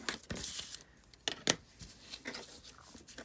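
Scissors snipping and tearing junk mail envelope paper for a junk journal flap, a few short crisp cuts and crinkles, close and quiet with faint talk in between.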